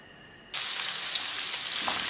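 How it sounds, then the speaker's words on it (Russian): Lamb chops hit hot olive oil in a pan and burst into a loud, steady sizzle after a quiet start, a close continuous hiss with a faint clink near the end. "Жарим на сковородке. Наливаем оливковое масло"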